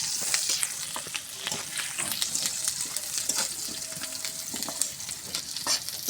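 Whole cardamom, cloves, chopped onion and garlic fry in hot oil, crackling and sizzling softly with frequent sharp pops and spoon stirs, close by and with no voices.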